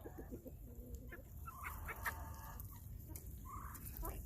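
Chickens cluck and murmur in a backyard flock kept with a mother duck, short soft calls scattered over a steady low rumble of background noise, moderately near.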